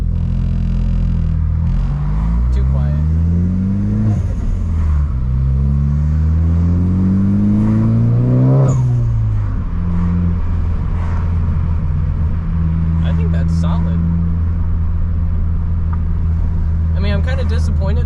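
A Porsche GTS drives and accelerates on the road, its engine note climbing through rising revs with gear changes, then settling into a steady cruising drone, heard from a following car with a constant interior rumble.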